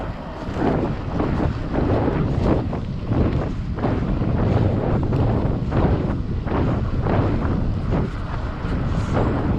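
Heavy wind roars across the microphone while an electric bike cruises at about 26 to 28 km/h into a headwind: a loud, constant low buffeting rumble with gusty surges, filling the whole stretch with no talking.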